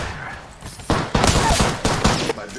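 Bursts of rapid gunfire in a first-person shooter video game, several loud sharp volleys in quick succession with short gaps between them.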